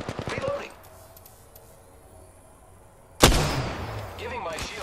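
Video game gunfire: a few faint shots near the start, then a sudden loud, close burst of shooting that rings on under dense battle noise.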